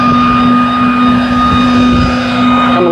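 A Worx Trivac leaf blower runs continuously up close, its loud steady motor whine holding a strong constant hum with a hissing airflow rush over it for the whole stretch.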